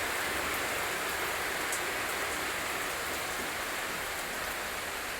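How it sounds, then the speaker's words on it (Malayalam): Heavy rain pours steadily with a light wind, a dense, even hiss of drops on surfaces, loud and continuous throughout with no talk. "നല്ല ശക്തമായിട്ടുള്ള മഴയാണ് കേട്ടോ."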